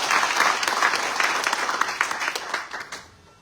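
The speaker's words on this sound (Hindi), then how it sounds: "आप सभी के लिए जोरदार ताली हम बजा सकते हैं।" Loud, dense applause from a congregation fills a Christmas church service, holding strong for nearly three seconds before tapering off into quiet.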